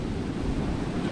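Ocean surf washes onto the beach at Ocean City, Maryland, a steady, close, broadband roar of breaking waves with some wind rumble on the microphone and no talk.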